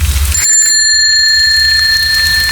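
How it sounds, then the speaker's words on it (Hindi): A bicycle bell rings once, a clear metallic ding that lingers and slowly fades, loud and close, with no voices. "पीछे से साइकिल की घंटी सुनाई देती है।"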